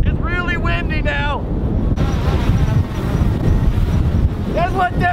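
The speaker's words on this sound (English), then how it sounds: "It's really windy now." Strong wind buffets a microphone outdoors near water, a loud continuous rumbling roar with gusts, while someone talks over it at the start and end.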